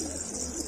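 A black-feathered, white-tailed pigeon in a coop gives a brief, soft coo, close and steady over a constant background hum.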